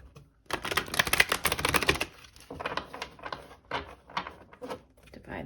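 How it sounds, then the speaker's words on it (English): Tarot cards being shuffled as a deck, a dense burst of rapid riffling clicks followed by several shorter bursts of card flicks, close and fairly quiet, with no talking. "Okay, we'll do one last shuffle."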